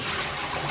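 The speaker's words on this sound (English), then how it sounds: "you're just going to pour out the water it was sitting in" Water poured off defrosted chicken gives a brief steady gush, close and fairly soft, with no talking.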